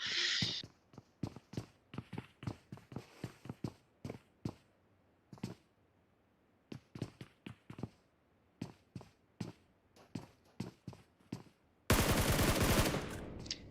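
Rapid gunfire in the battle-royale game PUBG Mobile, heard as bursts of sharp shots spread across the clip with short gaps between them, closing in a loud sustained burst of noise.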